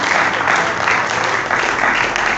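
A church congregation applauds during a Spanish-language sermon, a loud, dense, continuous wash of many hands clapping together at close range.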